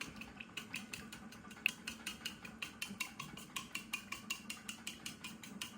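A spoon or whisk clinks rhythmically against a bowl while a dry coating mix for fried chicken with paprika and salt is stirred, a quick steady run of light taps, close and quiet with no voices.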